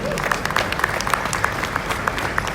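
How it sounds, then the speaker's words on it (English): A crowd at an indoor classic car show claps, with scattered individual claps standing out over a busy hall murmur and faint voices. "Give him a big round of applause."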